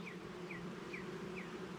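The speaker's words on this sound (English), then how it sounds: "a lot of bees on there" Honey bees drone at the hive while queen cells are being checked, a steady low buzz, faint and continuous with no voices.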